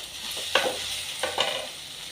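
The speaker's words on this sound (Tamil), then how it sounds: "இஞ்சி பூண்டு பேஸ்ட் போட்டுட்டு நல்லா வதக்கணும்." Ginger garlic paste sautéing in a pan while a kanava (squid) gravy is cooked, a steady low sizzle with two brief scraping stirs, close and fairly quiet, with no talking.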